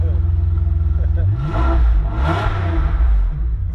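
A V12 sports car engine revs hard and close, its roar climbing and swelling through the middle before settling into a steady growl, with voices talking over it.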